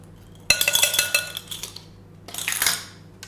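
A metal teaspoon clinks and scrapes against a small bottle and dish while vanilla extract is measured, two close bursts of ringing metallic rattles with a quiet pause between them.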